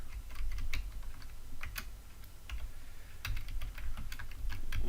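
Rapid, irregular clicking of keys on a computer keyboard while text is entered into a web page, faint and close, running steadily for several seconds with no voices.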